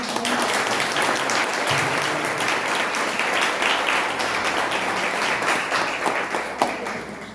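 A congregation claps during a church healing and deliverance service, with sustained, fairly loud applause that tapers slightly near the end.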